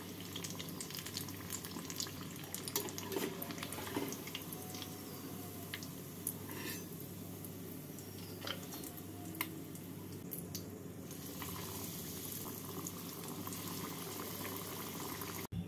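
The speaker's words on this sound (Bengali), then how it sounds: "বাকি চপগুলোকে একইভাবে ভেজে নেব।" Paneer and prawn chops sizzle in hot oil, a steady crackling hiss broken by occasional pops and sputters, with no voices.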